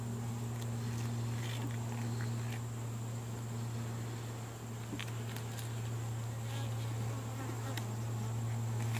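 Honey bees on a hive brood frame hum in a steady, close, continuous drone that holds even throughout, with no talk over it.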